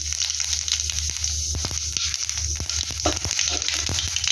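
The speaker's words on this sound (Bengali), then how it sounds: "এখন আমি সবার প্রথমে যেটা করব সেটা হচ্ছে আমি এখানে কড়াইয়ের মধ্যে জিরা ফোড়ন দিয়ে দেবো" Steady crackling sizzle of cumin seeds frying in hot oil in a wok, with a constant hiss and scattered sharp pops, close up and fairly loud.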